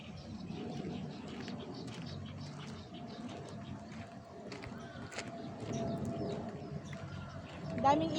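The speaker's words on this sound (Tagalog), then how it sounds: "Daming ibon eh." Birds coo and call faintly in the background by a riverside, with soft rustling and a few distant chirps.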